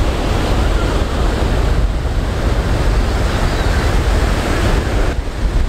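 Steady roar of surf breaking on the shore at Venice Beach, a continuous loud wash of waves mixed with wind buffeting the microphone, with no voices.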